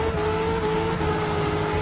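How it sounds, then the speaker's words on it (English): A 2000 Ford SVT Cobra R Mustang idles loudly and steadily at a starting line, a deep rumbling engine drone with a constant tone and no voices. "rolling up to the line, the 2000 Ford SVT Cobra R"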